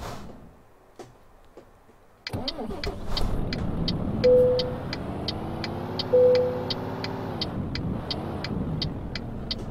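A DAF XF truck in Euro Truck Simulator 2 struggles to start, then its engine runs with a steady low drone and rhythmic ticking clicks, with faint warning tones layered over it.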